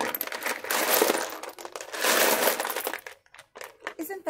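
Loose beads from deconstructed necklaces pour and clatter in two dense bursts of bright rattling and clicking, close and loud, followed by a few scattered individual clicks as they settle.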